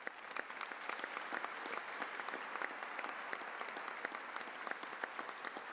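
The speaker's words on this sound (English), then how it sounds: "he deserves a round of applause" Gala audience applauding in a large room, a dense and steady wash of many hands clapping together throughout, moderately loud and without pause.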